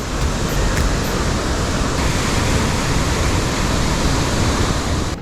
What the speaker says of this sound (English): The trail crossed over the raging waters several times. Listen in to get a sense of how powerful the water was.